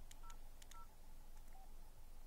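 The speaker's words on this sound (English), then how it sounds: "Follow the instruction on your phone and enter the passcode" Phone keypad tones beep in a quick series of short presses while a Bluetooth pairing passcode is entered for a Pioneer car stereo, each tone brief and clear against a steady background hiss.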